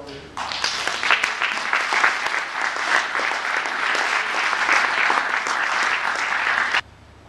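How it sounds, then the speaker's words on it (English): An audience applauds steadily for several seconds at a steak and burger dinner, dense and sustained clapping that stops abruptly. "give yourselves a big round of applause"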